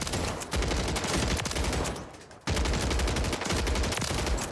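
Long-range gun firing in a Rebirth Island video game, loud continuous rapid automatic fire in two sustained bursts separated by a brief pause.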